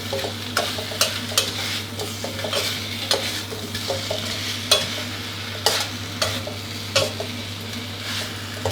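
Catfish stir-fried with red curry paste in a pan: a sizzling fry under sharp, rhythmic scrapes and clacks of a spatula against the pan, loud and close, with no voices.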